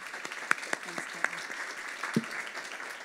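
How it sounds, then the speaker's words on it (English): Audience applause at a health innovators challenge event, a steady wash of clapping with a few louder individual claps standing out over roughly three seconds. "Give her a round of applause"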